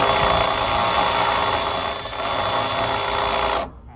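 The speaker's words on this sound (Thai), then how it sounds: "เดินสว่านนะครับ" An electric drill whirs steadily at close range, drilling electrical conduit pipe, with a high, constant motor whine that dips briefly in the middle, then cuts off near the end.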